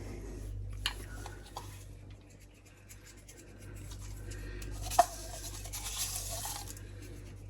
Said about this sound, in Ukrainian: І зараз я їх змащую яйцем.